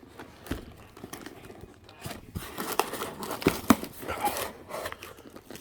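A cardboard box holding Apoc Industries adjustable rear control arms for a Hummer H2 gets torn open, with a run of close, uneven ripping, crinkling and thumping sounds.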